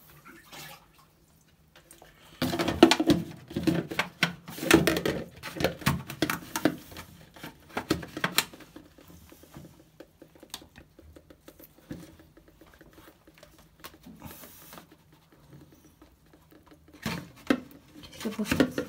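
Water leaking from a washing machine with a wire stuck inside it patters and drips irregularly into a container placed underneath, with bursts of splashing and a soft background hum.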